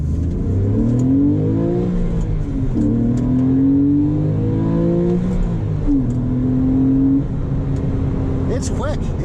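A Porsche 997 pulls hard under acceleration, its engine note climbing in steady rising sweeps through several gear changes, loud and close from inside the cabin, with a voice talking over part of the run.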